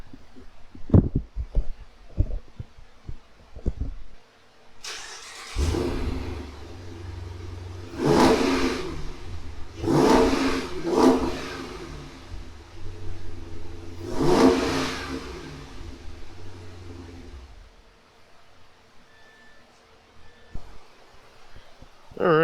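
A 2016 Dodge Challenger R/T with the 345 Hemi V8, stock exhaust, ported throttle body and Airaid intake, clicks a few times, then fires up, blips through three sharp revs and settles into a burbling idle before shutting off.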